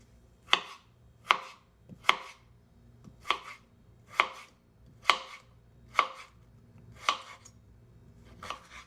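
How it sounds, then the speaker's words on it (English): Knife chopping carrots into strips on a board: about eleven crisp, evenly spaced cuts at a steady slow rhythm, close and clear with no talk. "You cut the carrot."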